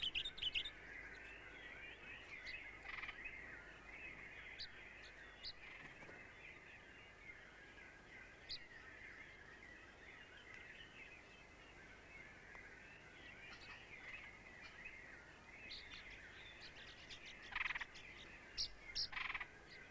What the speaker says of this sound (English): Sunbirds are nectar feeders, exactly like the hummingbirds of the New World.